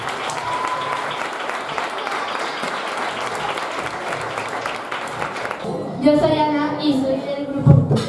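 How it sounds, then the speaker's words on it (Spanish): An audience at a synchronized swimming club's tenth-anniversary gala gives steady applause for the swimmers for several seconds, then the clapping stops and a voice begins speaking close by. "Un aplauso para ellas"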